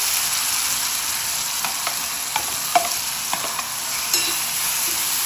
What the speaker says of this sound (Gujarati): અને હવે આવી ગયા આપણે જે વેજીટેબલને કટ કરીને રાખ્યા હતા એ અંદર એડ કરી દઈશું.